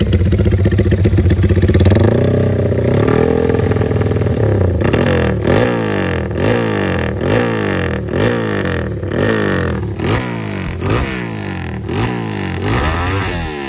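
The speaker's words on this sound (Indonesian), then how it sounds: "kita akan coba geber-geber ya" A motorcycle engine with a loud aftermarket racing exhaust, idling and then revved in repeated sharp bursts roughly once per second, close and harsh.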